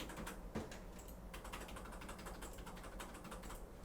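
Computer keyboard typing during spreadsheet work in Excel, a steady run of close, crisp key clicks with no voices over a low room hum.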